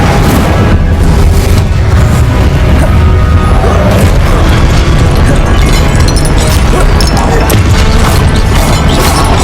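Incendio fire spell effects in Hogwarts Legacy burst out in loud, dense, continuous blasts and crashing booms, a relentless wall of magical combat noise.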